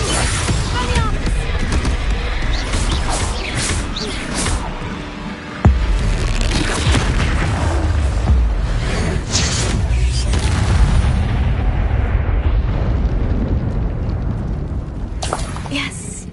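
Spell blasts and booms from Hogwarts Legacy gameplay erupt repeatedly in dense, loud bursts, with a player shouting over the action throughout.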